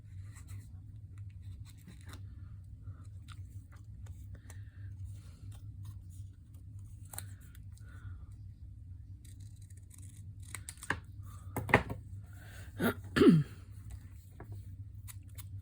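Scissors snip paper while making urban-style craft tags, a few quiet crisp cuts arriving late over a low steady background hum, with faint scattered handling clicks before them.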